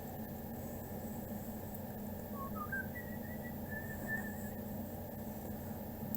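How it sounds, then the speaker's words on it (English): A person whistles a short rising, wavering tune while soldering at a workbench, over a steady background hiss and hum, with no talking. "it's a good idea not to whistle on things you're soldering as well"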